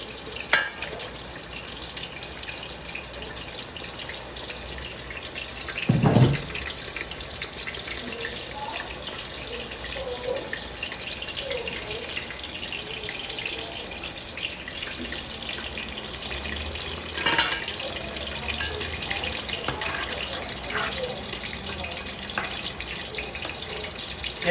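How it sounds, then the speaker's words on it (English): Chicken pieces frying in a pan for lowmein and fried chicken, a steady faint sizzle running throughout with a couple of brief louder clatters, no talking. "We add the next chicken. Let it fry."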